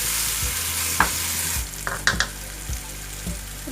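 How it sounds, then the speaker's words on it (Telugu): Vegetables for soya Manchurian stirred in a pan once the lid comes off, a spoon scraping in several distinct clatters over a steady background hiss, close and fairly loud with no talking. "4 మినిట్స్ తర్వాత మూత తీసుకుని ఇలా కలుపుకోవాలి"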